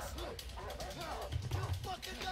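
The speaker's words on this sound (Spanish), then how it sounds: "¡Que me pilla el perro!" Dog barking during a chase in the video game Way Out, with game music and a frantic voice talking over the barks and yips.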